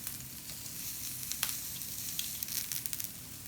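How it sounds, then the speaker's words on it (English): Pineapple skewers sizzle on a grill as their sugars caramelize, a quiet, steady hiss with small scattered pops and crackles and no voices. "I'll show you the pineapple, because that is what looks so pretty once it gets those grill marks"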